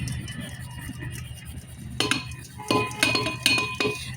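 Baking powder, baking soda and other cake ingredients are sifted through a sieve; after a quiet start, sharp metallic taps and clinks come in irregular bursts, close and moderately loud.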